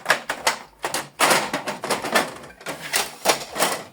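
Plastic clatter and sliding from the paper tray of a Brother MFC-J5740DW printer being handled: a rapid series of close, sharp clicks, knocks and scrapes in irregular bursts, with no talking.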